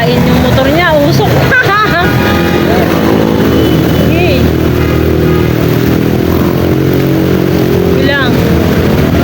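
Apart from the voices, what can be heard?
boat motor engine running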